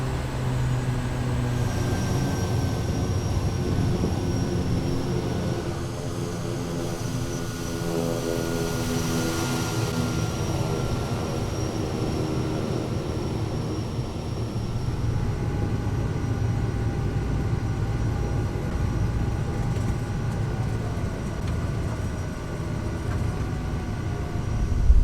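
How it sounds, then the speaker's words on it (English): A Kodiak 100 turboprop taxiing to the runway in Microsoft Flight Simulator 2020, a steady, continuous engine drone with a whine that holds throughout. "Okay guys, let's taxi to the runway."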